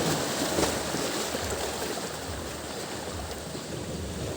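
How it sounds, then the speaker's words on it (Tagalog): Big ocean waves at a beach give a continuous, full-bodied wash of surf that stays fairly loud and even throughout, with no voices. "Kaya laki ng alon dyan."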